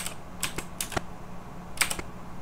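Keys pressed on a computer keyboard, a few crisp clicks close by, with single taps and short pairs spaced unevenly, heard alone without talk.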